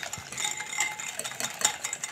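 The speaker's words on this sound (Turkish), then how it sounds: "güzelce şeker ve yumurta köpük köpük olana kadar çırpacağız arkadaşlar. Ben el çırpıcısı kullandım." A hand whisk beats eggs and sugar in a bowl for chocolate cupcakes, giving a quiet, continuous rhythmic scraping and clinking of wire against the bowl.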